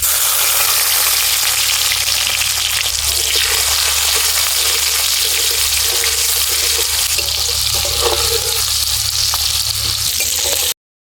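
Chopped tomato frying in hot oil with black cumin seeds in a pan while cooking a fish curry, a loud, steady close sizzle with crackling and some stirring, running unbroken for about eleven seconds with no talking.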